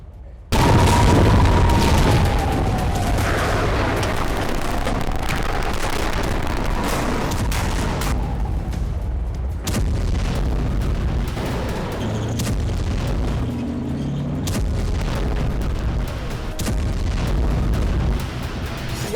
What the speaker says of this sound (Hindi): बम मिसाइलों से प्रहार किया जा रहा है।